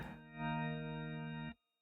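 A sustained, gritty overdriven organ chord from a Hammond B3X drive effect rings out loudly for over a second, then cuts off abruptly.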